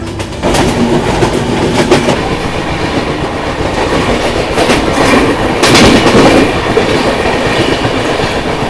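Godavari Express passenger train rolling along the rails near Visakhapatnam, a steady rhythmic clickety-clack of wheels over rail joints with continuous rumble, loud and close throughout, no talking.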